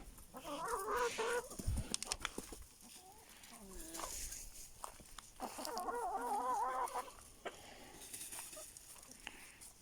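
Hens cluck in a farmyard coop where roosters are also kept, two bursts of warbling clucks near and moderately loud, with clicks and rustles between them.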